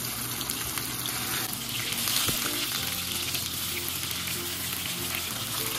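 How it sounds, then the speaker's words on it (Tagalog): Tofu fries steadily in a pan of hot oil for seafood pancit Malabon, a continuous close sizzle with faint watery splashing now and then and no talking. "Hintayin naman po natin itong ating pinipritong tofu."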